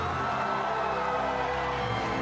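Arena crowd roaring after a kickboxing win, a steady dense wash of cheering and shouting that holds level throughout without breaks.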